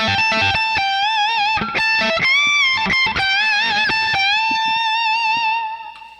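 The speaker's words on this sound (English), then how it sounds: "So thicker, more saturated sound, more sustained for your rock leads." Distorted electric guitar lead played through a practice amp with gain and distortion turned up, giving a thick, saturated, sustained rock tone; a continuous run of bright notes with a long held note that fades out at the end.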